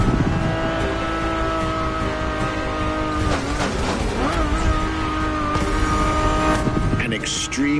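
A race-derived sports car with a carbon fiber monocoque chassis revs its engine as heard from inside the cabin, a loud, sustained tone that rises and falls under continuous talk.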